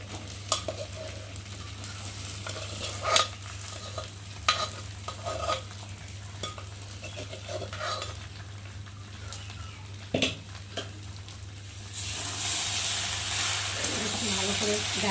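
A spoon stirs softened pressure-cooked dal together with dalia in a pan on the stove, giving scattered scraping clacks over a steady low hum; a soft hiss swells toward the end.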